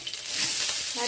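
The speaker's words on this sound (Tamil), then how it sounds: "கடுகு, ஜீரகம் 1 ஸ்பூன் வெடிக்கட்டும்." Mustard seeds and cumin hit hot oil in a pan, giving a brief, close, bright hiss of sizzling and crackling with no talking.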